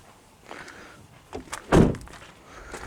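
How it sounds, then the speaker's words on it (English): The door of a 2002 Dodge Durango is swung shut with one solid thunk. Quieter shuffling and handling sounds come before it, and there is no speech. "You go ahead and go up front, shut that door."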